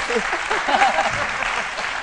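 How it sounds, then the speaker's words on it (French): An audience applauds Arafat on a midday TV studio show, steady clapping filling the clip with a voice briefly audible over it. "On applaudit pour Arafat"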